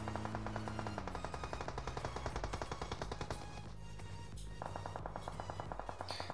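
Rapid automatic gunfire in a PUBG Mobile match on the Erangel map, a loud dense stream of shots in steady bursts that fills the whole stretch, with game music or effects layered in.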